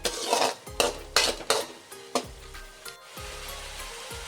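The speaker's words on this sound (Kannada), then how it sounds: "ಟೊಮೆಟೊ ಸಾಸ್ ಮತ್ತು ಸೋಯಾ ಸಾಸು ಎರಡು ಮಿಕ್ಸ್ ಮಾಡಿ ಹಾಕಿದ್ದೆ ಇದಕ್ಕೆ" Gobi manchurian being stirred with tomato and soy sauce, a spoon clattering against the pan in about eight sharp scraping strokes over a soft sizzle, close and clear with no talking.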